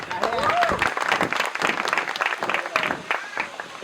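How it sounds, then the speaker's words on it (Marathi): An audience applauds a bride's dance performance at a wedding, a dense burst of clapping mixed with cheers and voices from the crowd, sustained throughout. "टाळ्या वाजवा"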